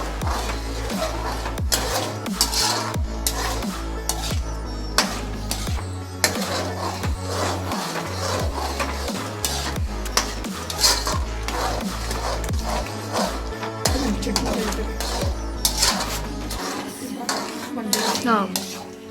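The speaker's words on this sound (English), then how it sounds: "you have to continuously shake the mixture so that it won't get burnt, as it is on the high flame" A metal spoon scrapes and clanks against a pan as a moong dal halwa mixture is stirred over a high flame, a busy, continuous clatter with no talking.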